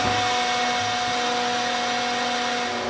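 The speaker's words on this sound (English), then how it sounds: "I've been blowing it out with this blower real good." An electric blower runs steadily while blowing out a fuel tank, giving a loud continuous whine and hiss with a constant hum, close by and unbroken for the whole stretch with no talking.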